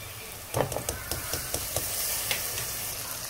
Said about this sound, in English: Now I'm going to add the ginger garlic paste.